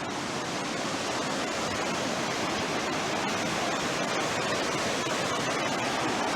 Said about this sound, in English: This is Hell's Roaring Creek at its finest. Roaring through here.